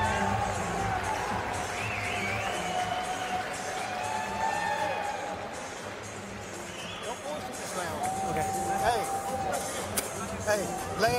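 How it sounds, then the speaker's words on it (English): A boxing arena crowd at a Golden Boy fight card reacts with sustained cheering and murmuring hubbub, scattered shouts and whoops rising and falling, with voices talking over the din throughout. "They get the reaction from the crowd"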